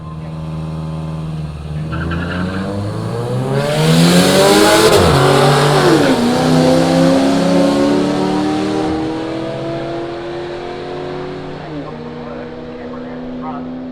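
Street-series drag racing cars roar down the strip at Willowbank, engines revving hard and climbing in pitch as they accelerate, loud and close, with a commentator talking over the noise.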